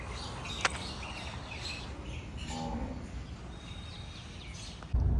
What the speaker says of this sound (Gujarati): એ પક્ષીઓના કલરવ સાથે